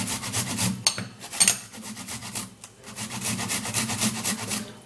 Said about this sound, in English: I'm going to be grating it, okay, because I need it to be fast